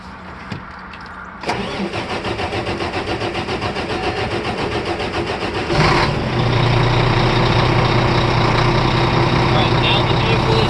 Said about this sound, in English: Now I'm ready to start the truck